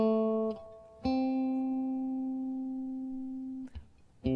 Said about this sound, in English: what I wind up with is called a major pentatonic scale